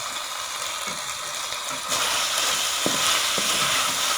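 Green onions frying in a chicken karahi pan, a steady close sizzle with a louder hiss after a fresh stir, a few faint clacks of a spoon on the pan, no talking.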